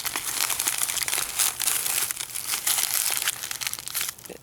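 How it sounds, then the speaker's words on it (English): Tin foil and newspaper are crumpled into a ball for a homemade smoke bomb, giving a continuous close crinkling and crackling with no talking. "Then you crumple it up"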